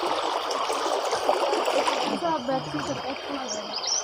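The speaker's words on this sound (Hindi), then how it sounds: "ये पानी जा रहा है यहाँ से।" Water flows out of a 200-metre tunnel dug by hand through a mountain, a steady close trickling and splashing stream while someone talks over it.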